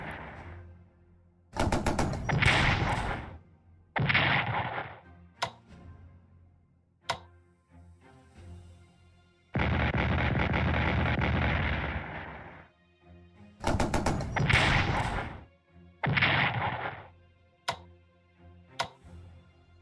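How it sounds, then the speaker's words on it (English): Artillery fire in the Strategic Command World War 1 strategy game, several loud booming bursts with sharp ticking clicks between them, heard alone without talk. "Defensive artillery, yay."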